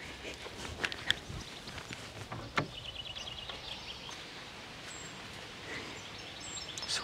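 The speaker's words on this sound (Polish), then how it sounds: "teraz śpiewają ptaki" Birds chirping in the evening beside a small stream with a covered shelter in France, with scattered bright calls and short phrases over faint rustling and footsteps, no talk.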